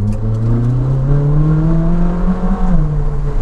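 A Ferrari 458 Speciale with its naturally aspirated V8 revs loudly on the road, the engine note climbing steadily and holding a raspy, rising drone close to the microphone, with no speech.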